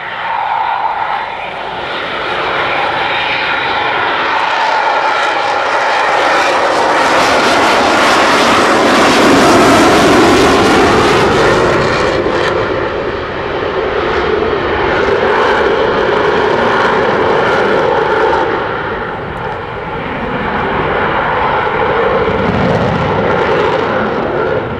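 A Eurofighter Typhoon twin-engine fighter flies slowly past at an airshow, its engines a loud, sustained roar that swells to a peak mid-pass, dips briefly, then surges again, with no voices.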